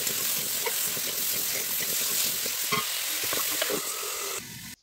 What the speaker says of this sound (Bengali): আলু আমার এখানে প্রায় ভাজা হয়ে এসছে।